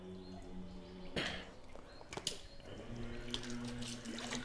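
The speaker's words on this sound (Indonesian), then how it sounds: "kita akan masukkan airnya air lilinya di sini ya" Water pours from a tap into a tub prepared for raising water fleas, a faint splashing stream that breaks off briefly, then resumes steadily, with no talk.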